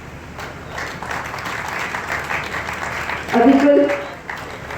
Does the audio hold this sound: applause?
yes